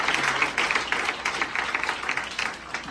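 A church congregation claps for Samuel, giving steady, rhythmic group applause that continues throughout at moderate loudness.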